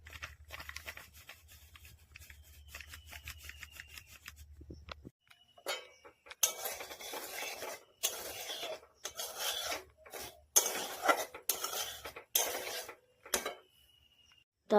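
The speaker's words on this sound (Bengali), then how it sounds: "খালি কড়াইতে একটু সুজিটাকে ভাজা ভাজা করে নেব।" Semolina is dry-roasted in an empty kadai, with a spatula scraping and rasping in short, uneven strokes against the pan after a low hum. The strokes are fairly quiet, with brief pauses between them.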